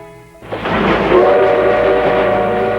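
A train on the Gyeongui railway line in Korea runs steadily and loudly, a sustained rumble with tonal whistle-like overtones starting after a brief quieter moment and continuing throughout.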